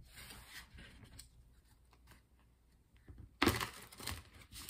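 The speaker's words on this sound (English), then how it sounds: "Let's continue by doing some shuffling so we can pull seven tarot cards for the week," Soft rubbing and sliding of tarot cards being shuffled, followed by a louder, crisp riffle near the end, with no voices.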